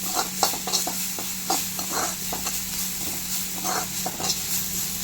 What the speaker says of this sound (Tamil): இஞ்சி பூண்டு பேஸ்ட்டு போட்டு அதோடைய ஸ்மெல் போகிற அளவுக்கு நம்ம வதக்கிக்கலாம்.